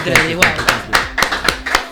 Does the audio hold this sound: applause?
yes